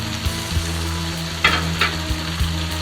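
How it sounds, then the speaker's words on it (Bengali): Chinese-style vegetable curry with chilies and chopped coriander sizzles and fries in an uncovered pan, a steady loud frying hiss broken by several knocks and scrapes from stirring, with no talking. "জাস্ট নেড়ে চেড়ে 5 মিনিট রান্না করে নিব"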